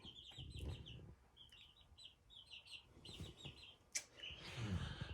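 Small chicks in a brooder peep in quick, high chirps, scattered and fairly faint, with soft rustling and a brief knock in the background.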